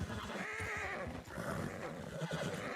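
A horse in a Red Dead Redemption roleplay game whinnies loudly and close, a shrill, wavering neigh lasting a few seconds with hoof clatter underneath and no talk.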